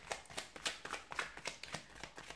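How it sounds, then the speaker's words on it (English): Tarot cards are shuffled close up in quick, rhythmic riffling bursts of papery slaps, fairly quiet with no speech. "So let's give the cards a shuffle here"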